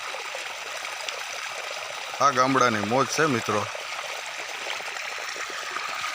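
Irrigation water streams steadily into a village farm field after the electric pump switches on, a continuous broadband rush running the whole time while someone talks briefly over it partway through.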